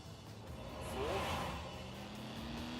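A Ferrari GTB6 engine in The Grand Tour Game revving up, a fairly quiet rising then steadying engine note, a smooth drone that climbs in pitch and holds.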